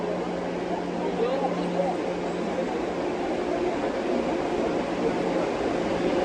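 Steady broadband rumble inside an economy-class train car, with a low continuous hum and airy interior noise throughout, no distinct events standing out.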